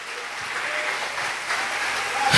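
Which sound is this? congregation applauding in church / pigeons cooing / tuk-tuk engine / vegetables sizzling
congregation applauding in church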